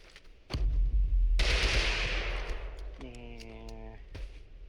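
Video-game gunfire from Totally Accurate Battlegrounds: loud, sharp shots cracking close by, then a noisy burst with a rising tonal whine before further reports.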